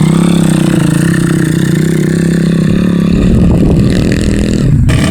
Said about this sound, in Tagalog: Oh, mga motor na ito.